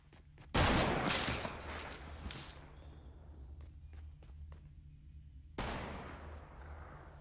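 Gunfire in a sniper shootout video game: a sharp nearby shot with a long decaying tail, several faint distant pops, then another loud shot later, no talking.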